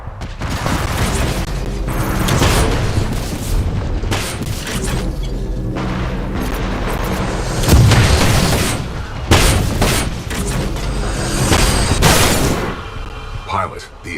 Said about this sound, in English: The Vortex shield catches incoming rounds and missiles